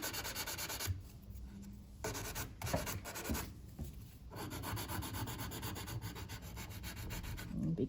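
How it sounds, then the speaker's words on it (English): A file shaping the free edge of a sculpted acrylic nail, producing close, steady scratchy rasping strokes in repeated bursts with brief pauses between them. "now I'm going to shape up my free edge"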